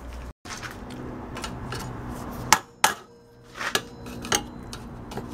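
A hammer drives a flat screwdriver to pry apart parts of an LG LCRT2010ST microwave oven: a few sharp metallic knocks and clinks, spaced irregularly over a low background hum.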